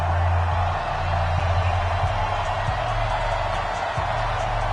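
A stadium crowd in an NFL video game, Broncos against Chiefs, keeps up a steady, dense roar with a constant low hum underneath and scattered whoops rising out of it.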